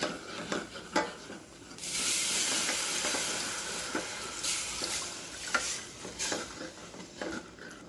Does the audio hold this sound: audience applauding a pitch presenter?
no